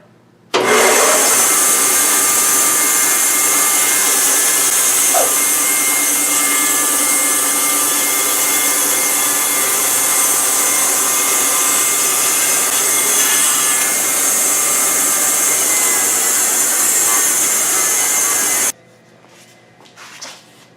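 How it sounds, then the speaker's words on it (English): A bandsaw cuts a straight section off the bottom of a turned wooden doorstop held in a jig, giving a loud, steady, close whine for about eighteen seconds before it cuts out to quiet. "Now the bandsaw will now cut off a small straight section off the bottom of that."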